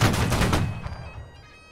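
A musket volley in the video game Holdfast: Nations at War, a dense crackle of many shots fired together in a loud burst that rolls away into a fading echo.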